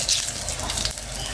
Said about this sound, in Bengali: এখন এই তেলের ভিতরে সব মশলাগুলো দিয়ে দেব।